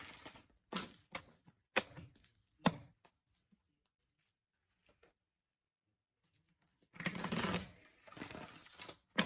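Cards are shuffled in quick papery riffles, with several short clattering bursts, a quiet pause, then a longer flurry near the end.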